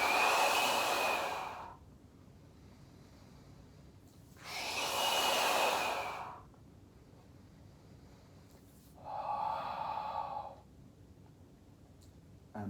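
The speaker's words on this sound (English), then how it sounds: "Breathing's in time with what your legs are doing. Breathing out," Slow, controlled breathing during a Pilates exercise: three separate breaths, each lasting about two seconds, separated by quiet pauses. They are close and fairly loud, with no talking.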